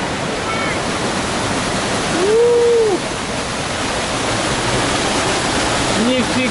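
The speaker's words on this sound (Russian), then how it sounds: "Вот максимально с вами подходим к водопаду." A waterfall roars with a dense, steady rush of water that stays loud and close throughout, while a voice speaks briefly over it.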